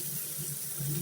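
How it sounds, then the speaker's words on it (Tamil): Tamarind water is poured into a pan of eggplant vathal masala, giving a soft, continuous splashing trickle of liquid at close range. "புளி ஊற்றிக்கணும்."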